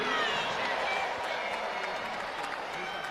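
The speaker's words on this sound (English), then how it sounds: "put a big round of applause together for both of the boxers in the center of the ring" A crowd at a women's world title boxing match applauds both fighters in the ring after ten rounds, a dense, steady wash of clapping and cheering with some voices mixed in.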